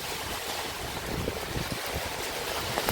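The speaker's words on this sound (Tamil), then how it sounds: "செம மழை." Heavy rain pours down in Bangalore, a dense, steady wash of hiss and splatter that holds even and unbroken throughout, with no voices.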